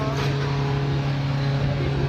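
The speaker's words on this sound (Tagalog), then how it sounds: "Umuusok at rinig na nakaapak pa sa silinyador ang tsuper nang mavideohan ng jeep na yan" A jeep engine in Barangay Molino 3, Bacoor, Cavite revs with the accelerator held down, a loud, continuous, droning roar with a strong steady hum and no pauses.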